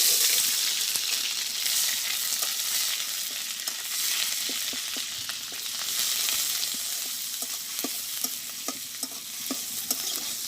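A paste of ground dry chili, cumin and coriander fries in a pan with a steady close sizzle, punctuated by the scrape and tap of a stirring spoon.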